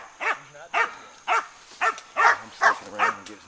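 Hunting dogs baying in rhythmic, repeated bursts at a cornered wild boar of about 320 pounds, seven or so loud, close barks evenly spaced with no talk over them.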